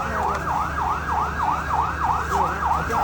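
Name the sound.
fire engine sirens arriving at a fire in Kathmandu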